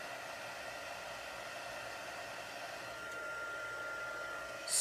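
A heat tool blows hot air onto a freshly stamped card dusted with embossing powder, giving a steady, close whooshing hiss that holds even throughout and swells slightly louder near the end.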